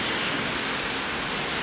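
Heavy rain pouring steadily outside at night, a dense, even hiss of drops hitting surfaces with no breaks and no voices.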